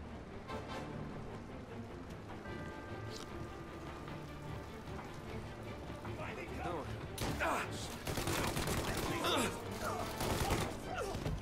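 Gunfire in the Mafia video game rings out as sharp, rapid bursts of shots, clustered mostly in the second half, mixed with clatter and muffled game voices in the background.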